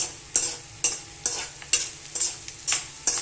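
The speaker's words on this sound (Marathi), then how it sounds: "आता हा इकडे बघा डिंक तळतोय." Edible gum (dink) fries in a pan for date and dry-fruit laddoos. A steady hiss is broken by regular, rhythmic scraping strokes as the pieces are stirred.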